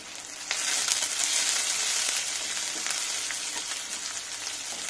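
Chopped onion and curry leaves crackle in hot oil for wheat rava upma, a loud, steady broadband sizzle that jumps up sharply after half a second and holds continuously with faint popping and stirring.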